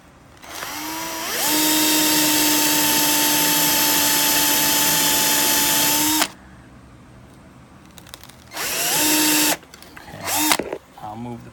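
A power drill runs steadily for several seconds, boring pilot holes to remount a Cirrhopetalum Fantasia orchid. It stops, then gives a second short burst and a brief third whir, with a voice talking faintly between the runs.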